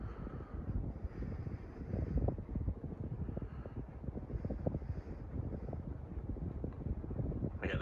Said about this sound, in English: this fan definitely cranks out a good amount of air